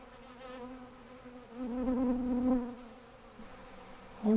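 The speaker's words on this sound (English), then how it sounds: "these bees are on the nectar, and they are going to clean this plate." Honey bees buzz steadily at close range while feeding on nectar from a plate, a droning hum that swells louder for a moment as they hover and feed.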